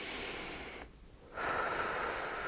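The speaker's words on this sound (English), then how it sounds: "take a few deep breaths for me" Loud, breathy inhales and exhales during a singing warm-up, with a brief quiet pause in the middle before the breathing resumes.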